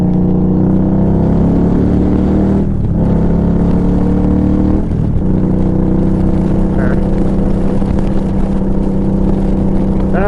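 An Indian Scout 60 motorcycle cruises down a road, its engine droning in a steady, loud low rumble with slight shifts in pitch, close to the rider, while wind buffets around it.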